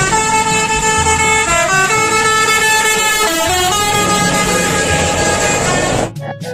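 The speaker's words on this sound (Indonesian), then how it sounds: "Di sini ada mobil bus telolet." Loud musical bus telolet horn sounds continuously for about six seconds, a stack of bright tones stepping up and down in a honking melody, then cuts off abruptly.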